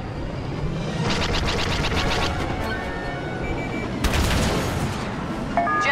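Ships firing on a cruiser in the video game Battlefront 2, with bursts of rapid blaster-like shots and booming impacts over a constant roar of battle, loud and continuous.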